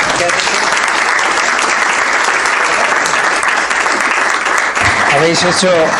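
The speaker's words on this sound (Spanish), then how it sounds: "quiero pediros un aplauso fuerte para ellos." Loud, sustained audience applause fills a seminar room on equity investment, steady clapping throughout, with a voice speaking briefly over it near the end.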